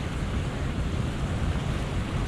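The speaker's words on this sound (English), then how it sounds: "And now the water's washing through." Sea water washes through holes at the base of a sea cave, once choked with sand, in a steady broad rushing surge that stays loud and continuous throughout with no voices.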